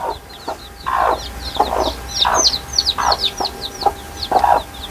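Native hens on a small home poultry farm cluck in short, repeated bursts, several birds close by, with high chirps scattered above the steady clucking and no speech.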